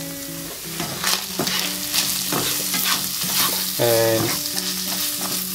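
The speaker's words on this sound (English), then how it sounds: "So let's put those in. Stir them around for just a wee bit." Chili flakes, paprika and garam masala sizzle as they are stirred in a frying pan for a Sri Lankan chicken curry: a steady close hiss with scraping stirs over soft background music.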